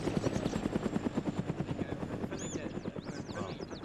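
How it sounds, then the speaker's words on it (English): A helicopter flies overhead during a military video game mission, its rapid rhythmic rotor chop pulsing steadily and fairly near, with faint whooshing sweeps later on. "Will, I'm gonna fire at the helicopter so they know this is a friendly position"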